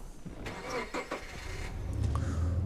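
A car engine cranks and turns over in the VR game Hitchhiker, a few uneven starter bursts followed by a low, steady idle rumble that swells toward the end.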